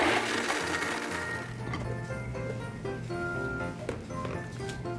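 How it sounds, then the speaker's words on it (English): A blender runs on high, grinding almonds with water into nut milk in a restaurant kitchen, a loud steady whirring churn with rattling bits that goes on throughout. "And I'm going to blend this on high."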